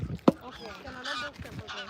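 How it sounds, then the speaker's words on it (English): Wild geese in open, untouched Icelandic countryside give a few distant honks, mixed with faint voices and outdoor noise. "Oh, we have goose."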